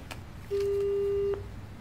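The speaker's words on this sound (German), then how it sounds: "Girwitz hebt sein Handy ans Ohr." A mobile phone call tone in a German radio crime drama: a single steady electronic beep lasting under a second, clear over a quiet background.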